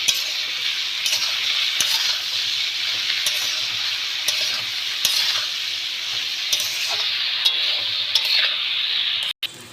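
Turmeric powder and spices sizzle steadily in hot oil for a fish and potato curry, with a constant bright frying hiss, occasional clinks and stirring scrapes of a spatula against the pan, and a sharp knock near the end.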